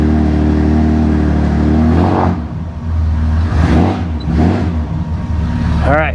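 A car engine idles steadily and loud as it warms up, then revs and shifts in uneven surges as the car pulls away and drives.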